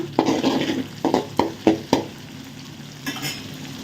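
Onions and green chillies frying in a pan for fish curry, a bright sizzle punctuated by a series of quick spatula scrapes and stirs, then settling to a softer hiss.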